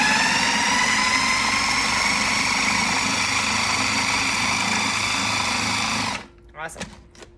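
Food processor running on high while chopping tough garlic scapes, a loud steady whirring motor with a dense grinding buzz for about six seconds, then stopping abruptly into a few quiet clicks.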